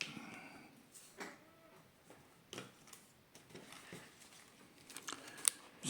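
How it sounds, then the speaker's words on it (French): Quiet, intermittent crinkling and rustling of paper being handled, with scattered soft crackles and a sharper snap near the end. "je vais prendre une feuille de papier."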